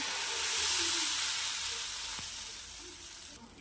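Batter hitting a hot dosa tawa gives a broad, steady sizzle that swells early and then holds, close up and with no voices, as a kadubu breakfast cooks.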